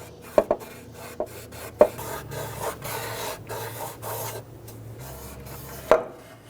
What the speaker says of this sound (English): I'm using a plastic trim tool inside of the rag. That'll help me get inside of the cover.